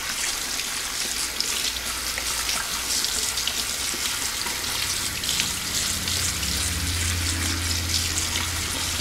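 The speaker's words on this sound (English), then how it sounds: "You wash them, you make sure they're nice and clean" Tap water runs steadily into a sink, rinsing canned beans in a colander, with a continuous hissing splash throughout and no voices.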